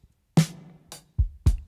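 Drum hits from an unprocessed drum bus in a studio mix: four separate, fairly loud strikes with low thumps and bright cymbal-like wash, the first ringing longest, spaced irregularly with near silence between.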